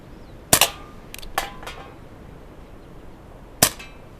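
An Umarex Colt Peacemaker air revolver fired outdoors at a can, giving a sharp crack followed shortly by a lighter metallic tick, then another single crack a few seconds later, with quiet outdoor background between.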